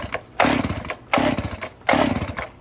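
A Stihl MS 261 chainsaw at fast idle, its engine surging in three loud bursts separated by brief lulls, close to the microphone with no talking.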